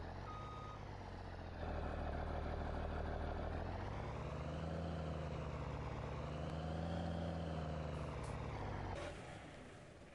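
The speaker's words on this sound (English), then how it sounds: "they're just a nice tractor" A steady tractor engine drone in Farming Simulator 19 runs for most of the clip, its pitch rising and falling slightly, with a high beeping tone near the start and a cutoff near the end.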